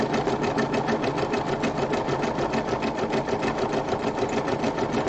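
A sewing machine runs steadily through embroidery on a rope bowl, its needle hammering in a fast, even rhythm that stays loud and close for the whole stretch with no voices over it.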